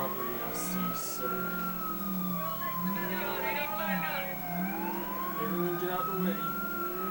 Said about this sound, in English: Gonna have a siren on during the chase